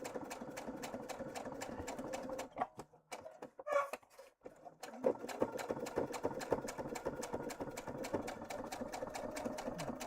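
Sewing machine top stitching at a longer 3.5 stitch length through fabric with double-sided tape, a fast even mechanical chatter of needle strokes that pauses briefly midway, then resumes steadily.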